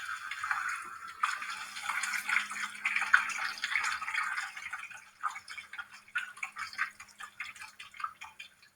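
Water poured back from one square container into others during a Pythagorean theorem demonstration, a steady close trickle with dripping and sloshing that pulses and tapers, with no voices.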